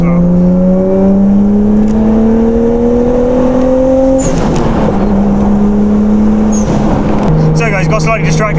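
A Nissan Skyline R34 engine revs hard while driving, its tone climbing steadily and dropping briefly at gear changes, loud and close, with a voice talking over it.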